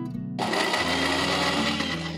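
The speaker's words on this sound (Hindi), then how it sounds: "अब ये सारे मसाले को मैं एकदम अच्छी तरीके से मिक्सर में थोड़ा पानी डाल के मैं पीसूंगी।" Mixer grinder running steadily, grinding spices with a little water for fish curry masala, a loud continuous motor whir that starts abruptly after a brief quiet moment and holds without pause.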